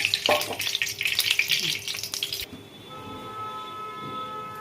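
Soybean chunks dropped into hot white oil, a loud crackling sizzle for about two seconds that then cuts to quieter, steadier background noise.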